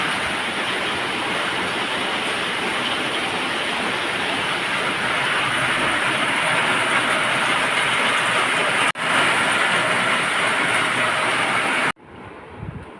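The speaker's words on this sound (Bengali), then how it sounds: "কেমন জলে বৃষ্টি হচ্ছে।" Heavy rain pours down in a dense, continuous roar, loud and close throughout, with a brief dip near the end.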